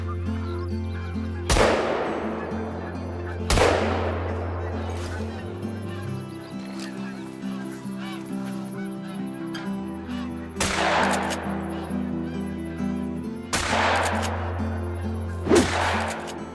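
Shotgun blasts at landed geese in theHunter: Call of the Wild, four sharp loud shots spaced a few seconds apart over steady game ambience and honking birds.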